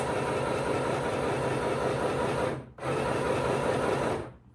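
A Stoigeld SM-725 beginner sewing machine stitches fabric in a steady, loud, close mechanical whir, stops briefly, then runs again before stopping at the end.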